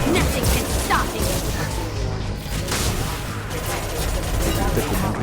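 Nail-rifle-style weapon firing in Mass Effect 2 as a burst of sharp, repeated shots over a dense rumbling backdrop, with some brief crashes; someone talks at points under the noise.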